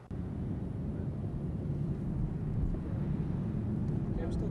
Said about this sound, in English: Okay, I'm still getting the airplane.